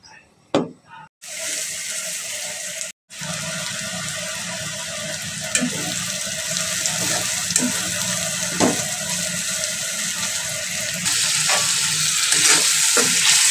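Ginger, cumin, onion and garlic pastes with garam masala being stir-fried into a meat dish, a steady loud sizzle and hiss with scattered clinks and scrapes of stirring throughout.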